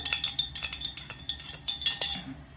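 A metal spoon clinks repeatedly against a bowl while sugar is added for homemade bael ice cream, making quick, close, irregular taps with no talking.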